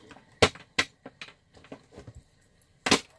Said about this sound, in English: So I'm going to go ahead and shuffle these.